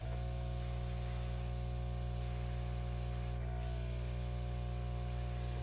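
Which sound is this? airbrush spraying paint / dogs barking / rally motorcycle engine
airbrush spraying paint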